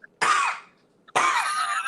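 A person imitates a toddler's uncovered cough with two loud, harsh, close bursts separated by a short pause.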